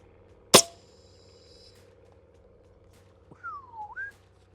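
A long range airgun fires once with a sharp, loud crack, followed by a faint ringing tail; later a whistled rising and falling tone is heard over low background hum.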